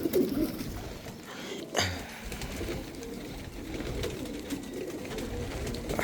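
Iranian pigeons cooing in rooftop cages, soft low cooing calls at a moderate distance over faint ambient background noise, with a brief rustle partway through and no clear talking.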